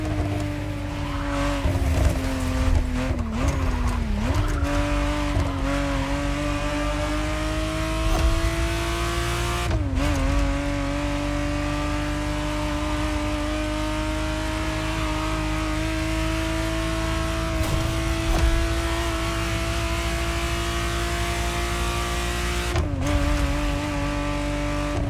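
A 1991 Ferrari Testarossa 512 races in The Crew Motorfest, its engine droning loud and steady throughout with rising and falling revs, brief gear-shift dips and occasional tire squeal. No one speaks.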